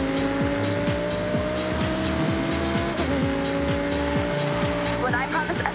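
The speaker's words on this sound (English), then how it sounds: "this V10-powered supercar can manage a top speed of 205 miles per hour" An Audi R8 V10 supercar in the Forza Horizon 6 racing game drives hard, its engine note droning loud and continuous as revs climb and shift repeatedly, with occasional tire squeal and a narrating voice over the top.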